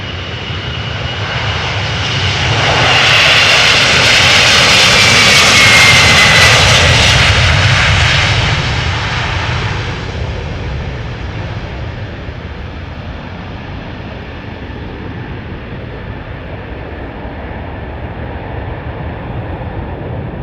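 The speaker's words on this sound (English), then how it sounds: "Lovely old school engine noise, particularly well audible when you're standing over here where the airplane has already gathered some speed." Roaring jet engines of a Boeing 767-400 swell loudly as it rolls past on its takeoff run at Amsterdam Schiphol Airport, then fade into a steady distant rumble.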